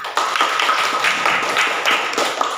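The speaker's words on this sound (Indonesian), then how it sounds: "Nah, tepuk tangan dulu untuk semua" A class of students claps together for everyone during a school lesson, producing a brisk, dense patter of hands that stays loud and even for a couple of seconds.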